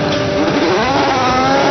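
A Team Penske race car driven by Juan Pablo Montoya revs its engine while leaving a pit stop, a loud continuous high-pitched roar with shifting pitch that fills the whole short moment up close.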